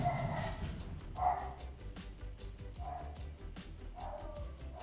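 Dogs bark in a few short, sharp bursts spaced over several seconds, fairly faint and somewhat distant against a quiet background.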